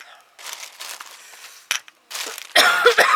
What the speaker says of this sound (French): Ouais, je tousse, mais bon.